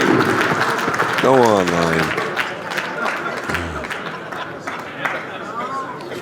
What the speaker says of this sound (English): Alex is clapping